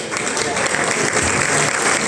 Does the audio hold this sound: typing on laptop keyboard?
no